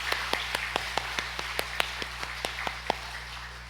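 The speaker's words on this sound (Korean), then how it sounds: "우리 하나님께 영광의 박수 올려드리겠습니다." A church congregation clapping in a steady rhythm, crisp individual claps spaced evenly about three per second, moderately distant over a low hum.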